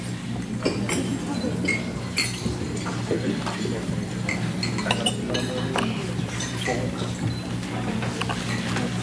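Glasses clink during a toast at a 50th wedding anniversary gathering, several light chimes scattered over a steady hum and people talking.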